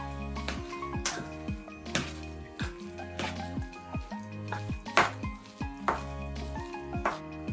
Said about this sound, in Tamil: இப்போ நான் இந்த சிக்கனுக்குள்ளே இதை ஊற்றி இப்போ எல்லாத்தையும் நல்லா மிக்ஸ் பண்ணி எடுக்க போகிறேன்